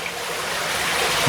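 A waterfall pours beside a restaurant's pool, making a steady, loud rushing hiss of falling water that fills the whole moment without voices.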